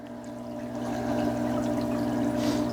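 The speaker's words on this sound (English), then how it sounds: "we're going to go ahead and start adding some more water" Water pours steadily into a hydroponic reservoir, a continuous rushing splash that grows slightly louder partway through, with a faint mechanical hum beneath.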